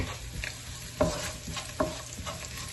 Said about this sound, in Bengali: এটা ফ্রাই হয়ে আসছে।